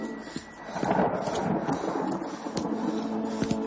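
Storm sound effect of a lightning strike with rumbling thunder and rain, a sharp crack followed by a rolling, fairly loud rumble under steady downpour, with no voices.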